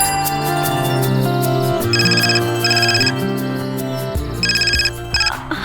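A telephone ringtone plays in a home, a bright repeating electronic melody with pulsing high beeps in bursts over several seconds, no voices.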